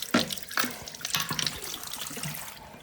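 Tap water runs into a bathroom sink during a deep clean, a steady splashing wash with a few sharper knocks and spatters near the start, then settling into an even, close, moderately loud flow with no talk.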